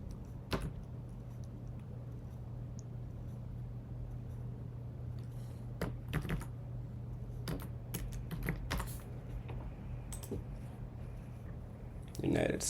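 Computer keyboard keys tapped while entering a password, scattered clicks and short bursts of keystrokes over a steady low hum, fairly close and moderately quiet.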